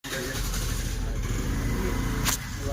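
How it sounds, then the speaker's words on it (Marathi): A tempo truck engine rumbles close by at a steady, strong level as the vehicle pulls away at a street procession, with a brief higher rasp near the end. "टेम्पो रेडी पोझिशन मध्ये निघतोय आता"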